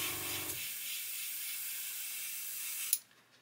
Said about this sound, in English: hold it over the model like this and just spray through it.